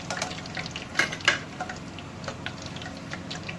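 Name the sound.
pakoras frying in oil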